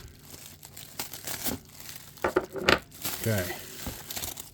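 Plastic packaging on a delivered parcel crinkles and tears in close, uneven bursts as it is pulled open, with a short spoken word in the middle.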